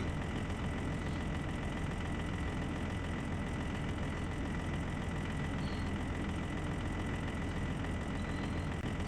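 A small excavator engine idles in the Bergsbruk mining game, a steady low rumble that runs unbroken and fairly quiet throughout, with no talking over it.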